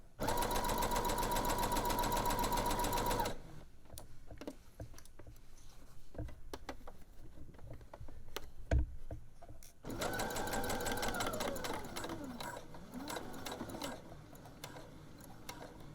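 A sewing machine running a basting stitch around the edges of a sports bra, stitching close in from the fabric edge in two steady bursts with a quieter pause of clicks and handling between them.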